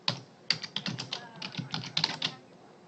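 Quick bursts of computer keyboard typing, close and moderately loud, tapping out a short entry in an irregular rhythm with brief pauses between clusters of keystrokes.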